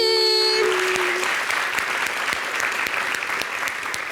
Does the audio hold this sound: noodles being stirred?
no